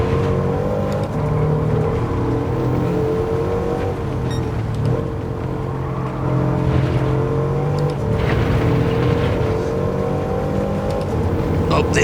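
A 2013 Bugatti Veyron 16.4 in a racing video game at La Sarthe circuit, its engine droning steadily and loudly with shifting pitch as it accelerates, continuous throughout with little break.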